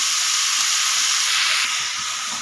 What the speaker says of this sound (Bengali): এবার এটাকে ভালো করে আবার 5 মিনিট মতো কষে নেব